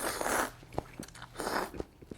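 Someone eats potato soybean-noodle soup (gamja kongguksu) with crisp potato pieces, giving close, repeated crunchy bites and chewing in short bursts, with no talk.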